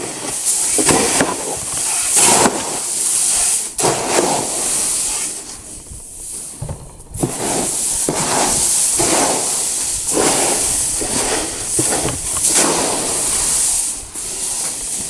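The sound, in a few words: seeds being mixed thoroughly with a small scoop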